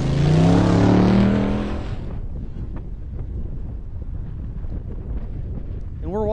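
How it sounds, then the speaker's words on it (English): A UTV takes off on the dirt race track at Prairie City SVRA in California during an off-road event. A loud engine roar opens the clip, then a distant motor drones under heavy wind noise on the microphone. "So it sounds like I heard another UTV take off."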